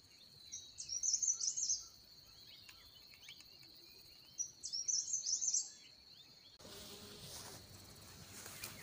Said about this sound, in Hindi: इस पेड़ में जो है तोता बैठ रखे हैं